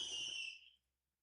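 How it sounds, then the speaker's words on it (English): A single dud firework gives a loud shrill whistle for under a second, then cuts off into silence with no bang afterward. "It made that big whistle and no pop?"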